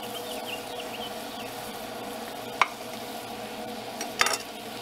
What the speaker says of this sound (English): And just let that saute for a bit.